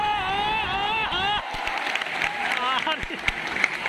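Audience at a Teacher's Day celebration meetup in Patna applauds its teachers: whooping, cheering voices come first, then a dense burst of crowd clapping with scattered shouts, loud and close.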